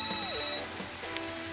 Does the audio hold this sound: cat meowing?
no